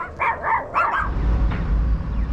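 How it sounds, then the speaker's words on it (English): Several chihuahuas in a house in Chihuahua, Mexico, bark in a quick burst of three or four sharp yaps up close, followed by lower background noise. "We've just found a house full of very barky chihuahuas."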